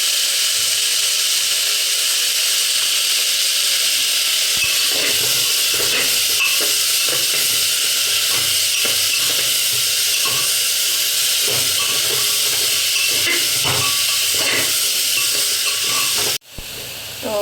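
Ingredients for dalia khichuri frying in a pan with salt, a steady hiss and sizzle with scattered crackles and stirring clicks throughout, fairly close, ending with a sharp knock.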